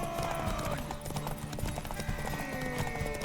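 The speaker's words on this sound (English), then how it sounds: "I can already tell Ciri's horse here doesn't have as much stamina as Geralt's with the saddle" Horse hooves clip-clop steadily at a quick gallop in The Witcher 3, with game music and effects in the background and no other sounds standing out.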